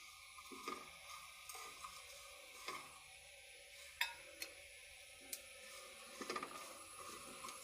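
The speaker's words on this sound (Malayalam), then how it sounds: "മസാലപ്പൊടി ഇട്ടതിന് ശേഷം മസാലച്ചവ മാറുന്ന വരെ നല്ല ഇളക്കി കൊടുക്കുക" A spoon stirring chilli, turmeric and coriander powders into masala in a pan, with faint scraping taps and clinks at irregular intervals over a low, quiet sizzle.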